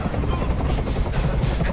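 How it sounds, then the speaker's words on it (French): A helicopter in the video game Detroit: Become Human gives a steady, loud, close rotor thrum that continues throughout. "Je peux plus supporter ce bruit. Fais dégager cet hélicoptère, maintenant."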